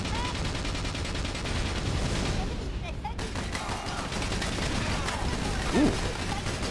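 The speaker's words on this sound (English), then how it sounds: "give him a little bit of an artillery barrage" Artillery barrage and gunfire in the video game Battalion Wars, a dense, continuous rumble of blasts and shots with a brief louder burst near the end, over game music.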